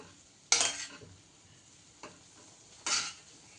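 Bread pieces frying in a pan for bread custard, heard as a low background sizzle broken by two loud scraping turns of the pieces and a softer one between them.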